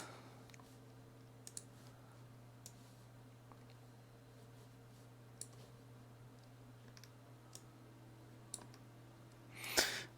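Computer mouse clicks, sparse and quiet, scattered singly across a low steady electrical hum, with a brief louder rustle near the end.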